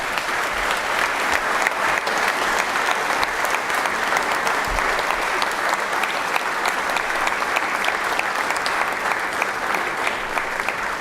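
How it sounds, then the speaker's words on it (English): Loud, dense applause fills a legislative chamber during a session, steady and continuous throughout with no pauses, many hands clapping at once close by. "y'all just please give them all a round of applause"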